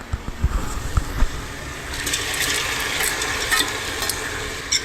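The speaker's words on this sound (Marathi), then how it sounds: "तर मसूर रकयल्या आणि लायक करून मिक्स करूया" Lentils stirred into an onion-tomato masala frying in a pan, giving a steady close sizzle with a few soft scraping knocks near the start, then a continuous hiss of frying.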